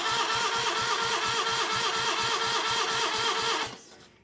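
Starter cranking the engine of an old Case trencher with the battery still hooked up, a rapid, even chugging churn held loud and close for several seconds before cutting off abruptly.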